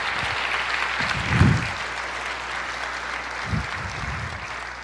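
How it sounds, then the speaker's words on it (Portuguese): A church congregation claps in a steady wash of applause under a low hum, with a couple of louder bursts of voices rising out of it. "Aplauda o Senhor, libere esse júbilo para Jesus."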